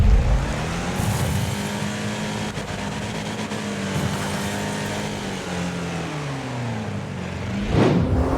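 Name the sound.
car crashes in Wreckfest demolition derby, video game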